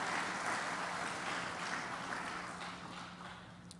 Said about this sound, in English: if we could please have a round of applause for them